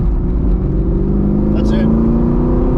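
A 6th gen Camaro fitted with BMR parts accelerates around a road course, its engine a loud, steady in-cabin drone with rising harmonics, while a voice talks over it.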